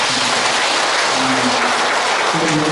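An audience at a church Lenten lecture applauds steadily and loudly, a dense, continuous wash of many hands clapping with no pauses.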